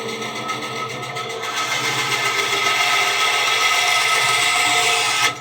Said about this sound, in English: I'm going to use this sander to shape it a little bit